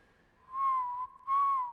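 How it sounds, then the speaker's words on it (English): Two sustained whistled notes from a music video, with a smooth, slightly wavering pitch, the second starting after a brief pause; fairly close and clear over a quiet background. "Oh, he's whistling."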